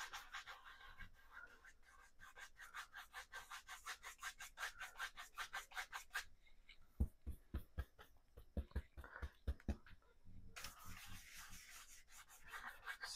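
A brush scrubs oil paint thinned with linseed oil onto a canvas, giving quiet, rhythmic rasping strokes in steady repeated bursts with a brief pause midway.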